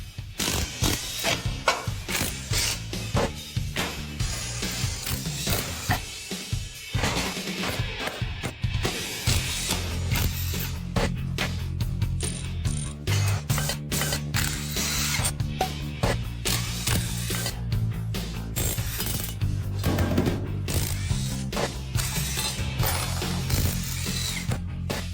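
A ratchet clicks in rapid repeated bursts while a Mitsubishi 3000GT engine is taken apart, loud and close, with mechanical clanks and tool rattles between runs and no voices.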